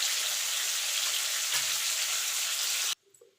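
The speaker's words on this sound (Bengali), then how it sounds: "দেখুন বন্ধুরা, আলুটা ভাজা ভাজা হয়ে গেছে।" Potatoes fry in a pan for a vegetarian aloo dum, giving a steady, dense sizzle that holds at an even level and then cuts off abruptly near the end, leaving near silence.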